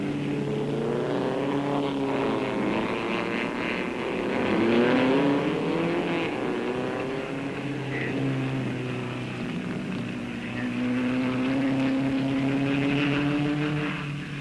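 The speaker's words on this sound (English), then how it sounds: "Moss has got the Ferrari in his sights, and 1 lap later takes the Aston back into the lead, with Ferrari second and third." Aston Martin and Ferrari race cars roar around the Nürburgring in 1959, their engines droning loudly with rising and falling pitch as they pass, in an old, muffled recording.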